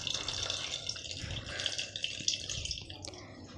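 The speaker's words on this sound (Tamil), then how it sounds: "புளி தண்ணி கொஞ்சம் ஊற்றிடலாம்." Tamarind water pours from a container into a pot of sambar in a home kitchen, giving a close, splashy liquid trickle with small drips.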